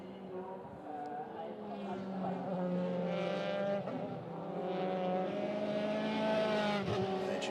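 Euroformula Open race cars scream past on a wet Spa circuit, several high-revving engines rising and falling together as a pack of cars fights for position, with a commentator talking over the steady engine roar.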